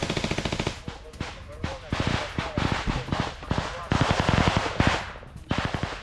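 Combat gunfire in Bakhmut during the Ukraine war: sustained bursts of machine-gun fire and rapid shots, loud and close, with people talking over the shooting.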